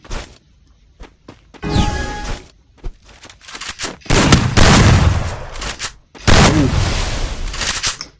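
Shotgun blasts in the Free Fire video game, several loud close booming shots and bursts of gunfire separated by short gaps.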